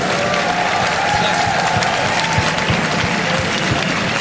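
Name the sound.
crowd applauding at LCS esports final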